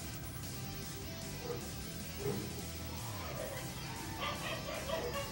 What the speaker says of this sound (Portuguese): Olha a cachorrada.